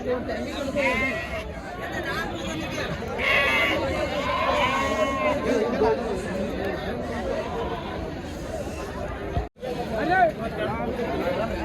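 Sheep and lambs bleat again and again at the weekly Saturday livestock market in Amingada. The calls come near and far amid busy crowd chatter, while people talk close by throughout.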